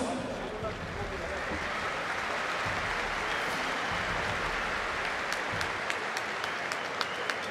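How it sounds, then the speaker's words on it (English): A mixed martial arts crowd at an FNC 13 fight night in Belgrade applauds both fighters after a bout ends by ground and pound, giving dense, sustained clapping and crowd noise with a few sharp claps standing out near the end. "Big round of applause, please, for both fighters."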